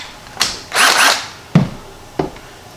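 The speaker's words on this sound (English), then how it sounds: "Let the drill do the work." A power drill backs bolts and screws out of a car door panel during upholstery teardown, with short whirring bursts and clicks of loose hardware.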